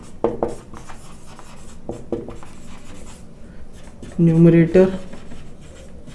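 Pen scratching on paper while working a trigonometry example, several short close strokes between spoken explanation.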